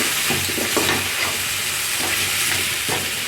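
Drumstick pieces sautéing in a pan for a drumstick kurma, a steady close sizzle of frying broken by several soft scraping stirs, with no voices.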